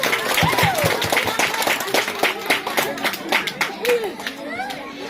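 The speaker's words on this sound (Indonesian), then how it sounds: "Tepuk tangan untuk dia." Scattered hand clapping from a crowd at a school gathering, greeting a committee member, with a voice talking and chatter layered over the uneven claps.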